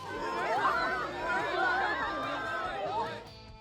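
A noisy crowd surrounds the French president's security team as they push through, a dense babble of many overlapping voices with some laughter, close and continuous.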